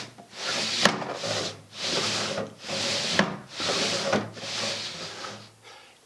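Plywood base pieces slide over 2x4s on a homemade drumbone, pushed by feet to adjust its tone. About six rough wooden rubbing scrapes come one after another in a slow back-and-forth rhythm, close by and fairly quiet.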